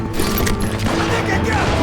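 Gunfire in the Western shooter video game Call of Juarez: Gunslinger, a dense clatter of shots and mechanical noise under a shouting voice.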